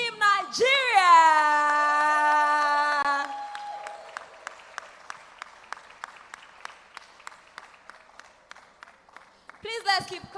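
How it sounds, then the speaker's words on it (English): Audience clapping and cheering greet Team Nigeria, the host country's delegation, at the JA Africa Company of the Year 2022 event. Loud applause with tonal whoops at first, then thinning to scattered individual claps before a fresh burst at the end. "Please, let's keep clapping."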